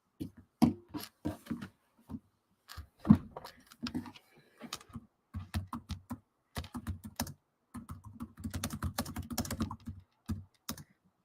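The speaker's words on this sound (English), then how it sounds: "So I'm going to type it out for you guys." Close typing on a computer keyboard comes in irregular bursts of clacking keystrokes with short pauses, entering a search for quilting fabric in a quiet room.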